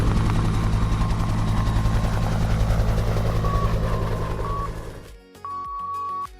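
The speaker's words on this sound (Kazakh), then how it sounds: "Тікұшақтың қанат қағысы." A helicopter's rotor blades beat in a steady, rapid pulse over a low engine drone, loud and close, then cut off and give way to brief electronic beeps.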